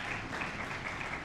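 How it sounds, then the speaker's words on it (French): Short burst of steady audience applause at a conference on sexual harassment in the media, a dense, even wash of many hands clapping with no clear voice over it. "Pauline Kabangu, Jackie Betoko, qu'on peut applaudir"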